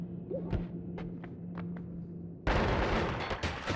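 Shotgun blasts tearing through terrain in the game Noita: a few sharp, faint cracks ring out over a low hum, then a sudden loud, dense burst of blasting and crumbling debris takes over and continues to the end.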